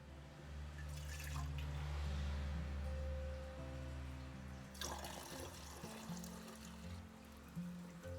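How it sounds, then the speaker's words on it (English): Water runs over a photographic print during a darkroom wash, a steady close trickle and splash with a brief louder gush midway and a low hum underneath. "And then we got to wash it off with some water."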